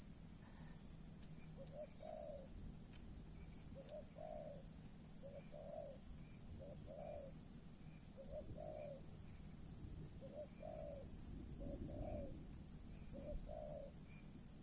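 Spotted dove cooing from a trap, a steady series of short soft coos repeating about every second, with a constant high insect drone and bird chirps in the background.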